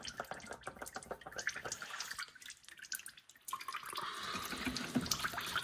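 Motor oil draining out of the opened oil pan of a 2024 Ram truck, a steady close liquid stream with scattered drips and splashing, continuous and moderately loud after a brief dip.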